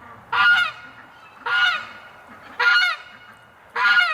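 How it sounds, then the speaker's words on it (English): A goose honks loudly and close by on a winter day, four evenly spaced harsh, nasal calls roughly a second apart, with faint background noise between them and no talking. "Oh man, that goose."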